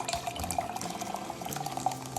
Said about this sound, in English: I'm going to add some mineral water today